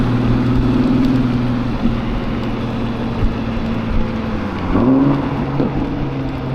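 A car accelerates past on a road during an e-bike commute, its engine rising to a nearby roar around the middle and end of the clip over steady low traffic rumble and wind.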